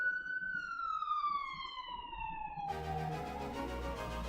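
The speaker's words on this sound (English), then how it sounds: "Ambulance." A single wailing siren tone sweeps slowly downward, then cuts into a buzzing, harsher siren sound, loud and close with no talking.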